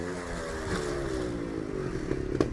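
Extreme trials motorcycle at a Lanark event, its single engine droning close and steady then rising into a throttle burst as it powers up over a log, with a clatter near the end.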